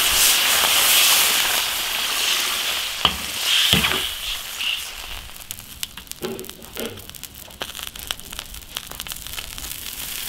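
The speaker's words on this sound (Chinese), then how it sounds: "炒香加水。" Ingredients stir-fried in a hot iron wok sizzle with a steady broad hiss, broken by a few sharp scrapes and clatters of the spatula; no talking.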